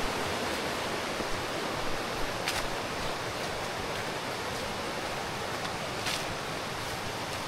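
A river flows by continuously, a broad, loud, steady roar of rushing water close by, unbroken by voices.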